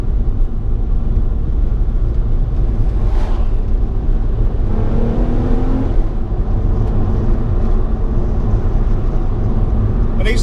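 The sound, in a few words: Ford Mustang car driving past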